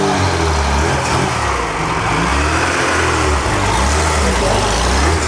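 A four-cylinder Ferrari being readied for the Mille Miglia produces a steady, loud engine drone with low rumbling revs that persist throughout, set against outdoor noise at the event.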